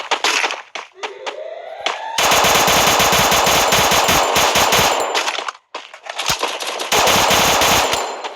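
Loud, close automatic gunfire in the mobile shooter game Free Fire, with long rapid bursts of shots broken by a short pause before firing resumes, preceded by a rising whoosh.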